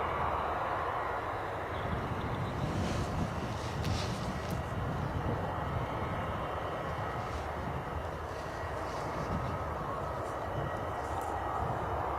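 An airliner departs Bristol Airport on a gusty, crosswind day, its engines a steady, broad roar heard from a distance that holds for the whole stretch.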